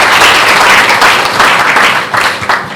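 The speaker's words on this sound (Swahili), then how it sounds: "Naomba tuwapongeze kwa makofi" At a swearing-in ceremony for newly elected student leaders at the National Institute of Transport, the audience breaks into loud, close, sustained clapping that thins slightly toward the end.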